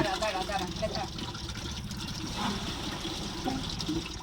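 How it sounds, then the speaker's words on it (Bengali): Tap water pours steadily into a bowl for a thirsty dog, a continuous splashing fill with a voice speaking over it. "জলটা ভর্তি হোক একটু, জল তেষ্টা পেয়েছে গো"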